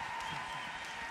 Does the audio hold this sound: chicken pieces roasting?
no